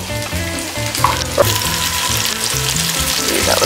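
Pieces of mahi-mahi, already oven-cooked, sizzle and crisp in a hot pan, a steady loud frying hiss with a few brief clinks and pops, no voices.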